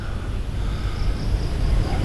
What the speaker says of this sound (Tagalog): Ito yung mga may tunog na sasakyan doon banda.